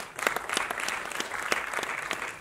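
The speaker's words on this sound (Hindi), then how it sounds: "जोरदार ताली हो जाए" A crowd at an award ceremony applauds with steady, dense clapping that holds at full strength throughout, with a few sharper individual claps standing out.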